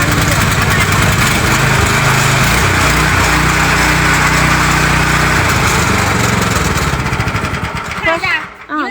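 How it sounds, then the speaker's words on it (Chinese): A small engine on an industrial meat shredding machine starts, then runs loud and buzzing close by with the throttle raised, under talk, before cutting out near the end. "先打开钥匙开关，加大一点油门"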